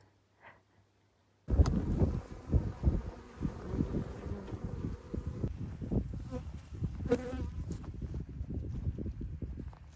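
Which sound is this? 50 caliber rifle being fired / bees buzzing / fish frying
bees buzzing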